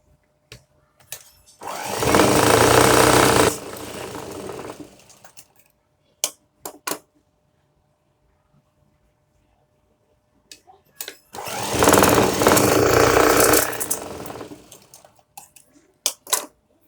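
Sewing machine stitching the back darts of a blouse, two steady whirring runs of about three seconds each, close and loud, separated by quiet handling clicks and taps.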